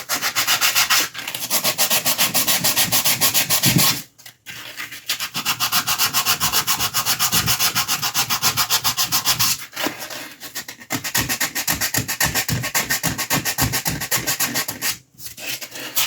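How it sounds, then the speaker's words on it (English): Sanding mold lines off a plastic model kit part for a 1/3 scale Juggernaut build, a continuous close, loud rasping scrub with rapid back-and-forth strokes, broken by a few brief pauses. "You just sand until the Sharpie's gone, and then you know the mold line's gone."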